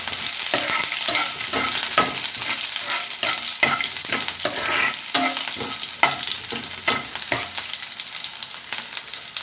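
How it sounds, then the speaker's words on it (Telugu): Ginger, finely chopped green chilies and cashews sizzle steadily in hot oil while a spoon scrapes and stirs them around the pan for khara bath, with a continuous fry and no voices. "అలాగే జీడిపప్పు కూడా వేసి వేయించుకుందాం."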